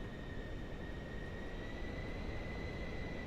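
An aircraft engine in Microsoft Flight Simulator 2024 running at increased power on approach with full flaps, heard as a steady, even engine roar with a constant tonal whine, with no talking.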